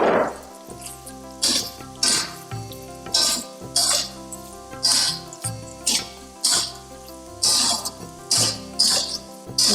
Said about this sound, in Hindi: अब इसमें डालेंगे ये हमारा मटर, पनीर को डालेंगे और इन दोनों को अच्छे से मिक्स करके